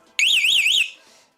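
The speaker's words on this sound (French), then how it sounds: "c'est l'alarme qui se met en route, donc là on voit que ça fonctionne bien." Alarm on a Honda VFR 1200 motorcycle sounds loud and close, a rising-and-falling warbling siren lasting well under a second before cutting off into faint residual noise.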